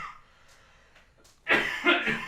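A sick person gives a short burst of harsh coughs, loud and close, in a boxing podcast studio after a quiet stretch of faint breathing.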